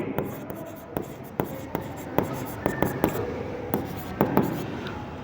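A pen or marker writes an accounting entry, with close scratchy strokes and light taps at an irregular pace. A faint room hiss sits underneath, and no one speaks.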